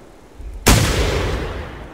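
One loud, close rifle shot in the hunting game theHunter: Primal breaks an otherwise quiet scene and trails off into a long, rumbling echo.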